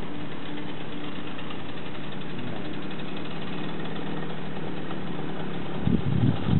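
A Romet Pony motorcycle's small engine runs steadily in a low buzzing drone, then revs up sharply and louder near the end.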